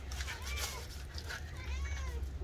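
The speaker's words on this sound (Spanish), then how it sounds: "Ahí andan otra vez los gatos." Cats meowing in a Salvadoran home kitchen while beef soup is being prepared, several drawn-out wavering meows over a steady low hum and background noise.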